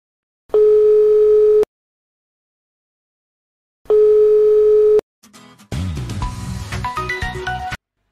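Telephone ringback tones while placing a call: two long even beeps separated by silence, followed by a brief click and a burst of tonal electronic sound, with no talking.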